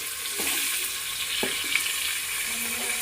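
Three medium tomatoes dropped into a hot pan for gongura palavu, a steady bright sizzle with a few soft stirring knocks, close and alone.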